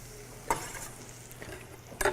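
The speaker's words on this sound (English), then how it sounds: "Now I'm going to go ahead and add our garlic right to the pan." Garlic sizzles faintly in a hot pan for sweet potatoes, with a soft steady hiss broken by a few sharp clicks of a utensil against the pan, close by.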